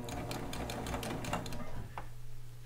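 A serger sewing machine runs steadily along fabric with a rapid, even stitching clatter and a low motor hum, heard up close before it cuts off near the end.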